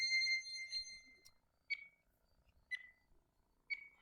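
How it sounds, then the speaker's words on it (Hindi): Timer alarm set during an exam-style reasoning question: after a brief burst of room noise, three clear electronic beeps sound alone at even one-second intervals, crisp and fairly close. "टाइमर मैं लगा रहा हूँ आप लोग के लिए।"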